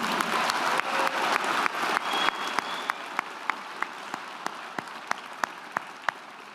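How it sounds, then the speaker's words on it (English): Graduation ceremony audience at Otago Polytechnic applauds in a full round that gradually thins to a few sharp, isolated claps before fading out. "Can I get one more round of applause?"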